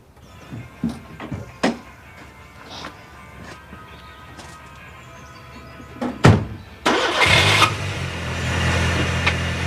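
A car in an English village drama scene: a few scattered clunks and knocks, then the engine catches and roars steadily, loud and close, with no talking.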